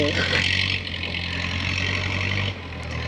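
A tractor engine drones steadily close by, a constant low rumble that dips slightly near the end, with a voice faintly present.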